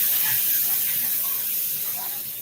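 A young chicken sizzles loudly in a hot pan, giving a dense, steady hiss that stays up close and constant throughout.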